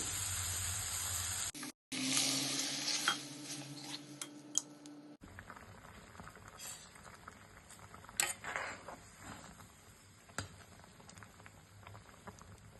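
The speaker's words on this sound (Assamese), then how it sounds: "এতিয়া ইয়াতে মই দালিখিনি দি দিম।" Mung dal tipped into a hot pan while cooking tengesi greens sizzles steadily up close, with clinks and scrapes of a utensil against the pan and no talk.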